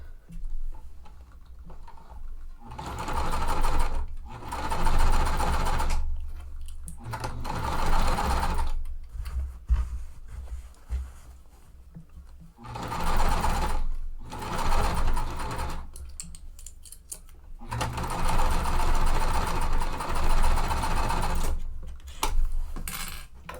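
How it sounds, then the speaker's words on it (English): A sewing machine stitches a quarter-inch seam on cotton quilt pieces, running in four steady bursts of several seconds each, separated by short pauses, close and clear. "I'm going to sew that at the 1/4 inch seam allowance"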